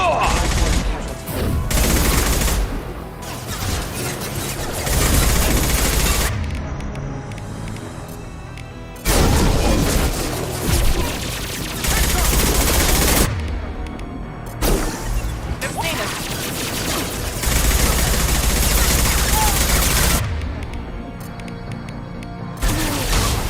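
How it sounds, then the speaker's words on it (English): Video game weapon firing high-impact shots, loud crashing blasts and rapid gunfire in repeated heavy waves, close and dense, with short quieter gaps between barrages. "Firing a high-impact shot!"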